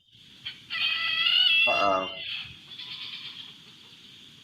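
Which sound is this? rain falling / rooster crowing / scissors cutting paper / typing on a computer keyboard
rooster crowing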